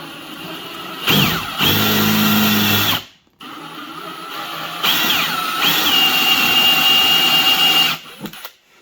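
Power drill boring into an object held in a vise, two loud close bursts of whining motor and grinding bit with a brief stop between, the pitch shifting as the bit bites deeper.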